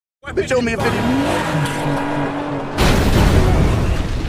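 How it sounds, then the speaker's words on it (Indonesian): A car skids with squealing tires during a crash scene from the Reacher series, loud and close, then gives way to a sudden burst of broad noise as the vehicle plunges into a lake. "membuat mobil yang ditumpangi mengalami kecelakaan dan terjun ke danau"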